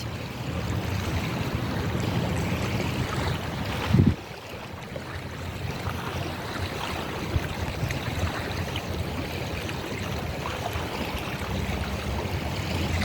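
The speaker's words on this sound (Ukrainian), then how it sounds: "Тільки чути, як хвилі." Ocean waves wash steadily in the distance as a broad, even rush, with a brief bump near the four-second mark and no talk.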